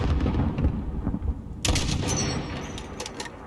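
Enemy gunfire in Call of Duty Modern Warfare: a dense battlefield din with a sharp burst of shots kicking in midway, crackling bright over a steady low rumble of distant fire, with no talk.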